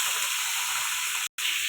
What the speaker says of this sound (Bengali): মাছটা দিয়ে দিলাম কড়াই,